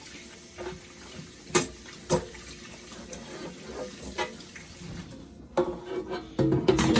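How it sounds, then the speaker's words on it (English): Water runs from a kitchen tap while an air fryer tray is washed in the sink, a steady splashing stream broken by a few sharp knocks and clatters of the tray, with the running water getting louder near the end. "go ahead and wash the tray"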